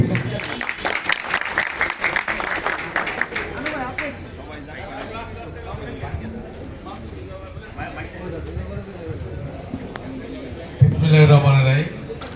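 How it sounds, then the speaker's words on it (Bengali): A crowd applauding to welcome youth party leaders at an outdoor gathering, a burst of clapping fading into murmuring voices and someone talking, with a loud thump near the end. "আমরা করতালির মাধ্যমে স্বাগত জানাচ্ছি"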